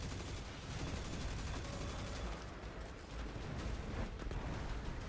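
Gunfire in Destiny 2 during The Edge of Fate campaign, a dense, continuous barrage of rapid shots and impacts at low volume, rumbling steadily without pauses.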